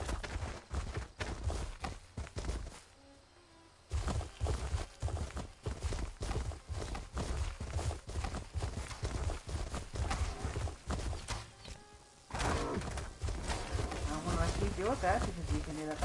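A tiny pet horse in the video game ESO (Elder Scrolls Online) trots with rapid, light clip-clop hoofbeats, fairly quiet and steady, with a short pause, while people talk over it.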